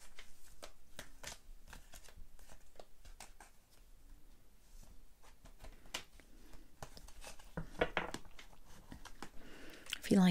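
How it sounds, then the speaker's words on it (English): Oracle cards being shuffled by hand, close and quiet, as a steady series of soft riffling slaps and flicks, with a few louder bursts near the end. "I feel like these cards need a very proper shuffle."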